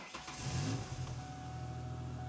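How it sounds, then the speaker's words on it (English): A Ford Ranger engine cranks and catches, then settles into a steady low idle heard from close by, with a faint constant whine over it. "All right, so now we're gonna start the engine."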